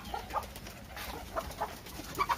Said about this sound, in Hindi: ऐसे मुर्गी पालते हैं और साथ में कबूतर भी हैं